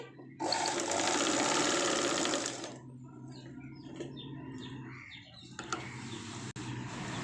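Sewing machine stitching a Punjabi dress top, running loud and steady for about two seconds, then stopping, followed by quieter handling sounds and a few light taps.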